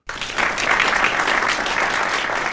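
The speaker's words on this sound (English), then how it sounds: "That, by the way, is our new virtual studio audience." A virtual studio audience bursts into steady, full applause that starts abruptly and holds at an even level throughout, with no voices over it.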